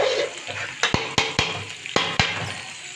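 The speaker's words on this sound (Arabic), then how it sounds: "نحمر دول كده شويه يا حبايبي" Shrimp fry in a pan, a steady sizzle punctuated by several sharp metallic knocks and scrapes of a utensil against the pan, close and moderately loud.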